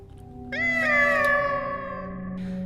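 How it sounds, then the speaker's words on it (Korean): A cat lets out one long, drawn-out meow close by, rising and then slowly fading, against a quiet room. "그제서야 고양이는 제 손에 머리를 부비며 야옹하며 울었습니다"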